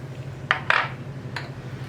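Turmeric masala being mixed with a spoon on the side of a plate, likely for a sardine fry: a few sharp metal-on-plate clinks and short scrapes stand out close by against quiet kitchen hum.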